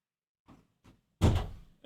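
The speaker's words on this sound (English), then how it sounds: "Close the door, please." An interior door pushed shut indoors, a couple of faint soft knocks and shuffles, then a single solid thud as it closes, with no talking.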